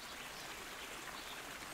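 Steady rainfall in the medieval game Kingdom Come: Deliverance, a broad even hiss of drops pattering on the ground that holds constant throughout without talk.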